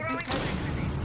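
A flashbang grenade goes off in Rainbow Six Siege, a short sharp blast with a ringing tail, heard close and loud while players talk over it.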